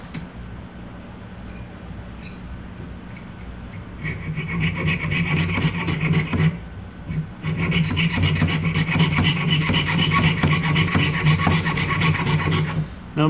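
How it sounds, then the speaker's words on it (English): Metal file rasping around a soldered jewelry bezel, trimming outside the seam; steady back-and-forth strokes, quieter at first then louder and denser from about four seconds on, close up with no talk. "now I'm going to trim and I'm going to file."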